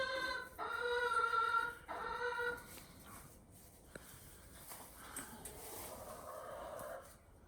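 Chickens, including a bantam, cluck and squawk close by in a backyard coop during morning chores, with a loud run of calls early on that fades into softer clucking and rustling.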